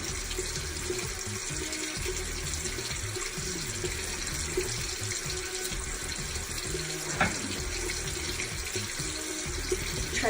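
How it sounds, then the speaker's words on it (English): A tap runs steadily into a sink, giving a constant, fairly loud rush of water that lasts throughout. "Try to turn the water off again."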